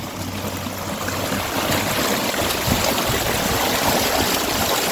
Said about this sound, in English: I think we're going to end it here with the sound of the creek